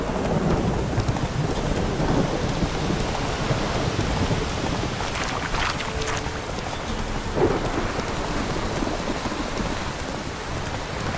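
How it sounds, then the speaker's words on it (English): Thunderstorm in The Witcher 3 video game: steady heavy rain pours across the whole stretch while low thunder rumbles and rolls beneath it, with a brighter crackle of a strike partway through. "Lightning strike."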